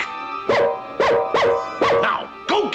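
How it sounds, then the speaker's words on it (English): A cartoon dog barks five times in a quick, even rhythm, each bark loud and close with a yelping, rising pitch. "Bark."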